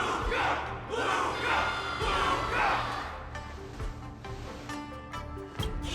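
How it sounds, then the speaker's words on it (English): A crowd in the Honkai Star Rail game roars and cheers in rising swells, a dense wall of many voices with a few dull thumps, moderately loud and sustained before thinning out toward the end. "Can't you hear? Everyone's cheering for you"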